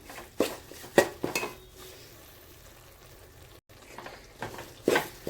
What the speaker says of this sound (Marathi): भाजून घेणार आहोत केळाचे काप नेहमी तूप तूप आणि रवा जेव्हा आपण भाजतो तेव्हाच घालायचे